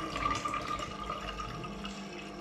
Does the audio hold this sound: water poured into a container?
yes